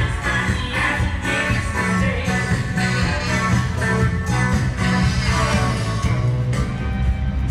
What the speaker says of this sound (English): The noise you're hearing is Taste of Edmonton, by the way, because I'm walking close by.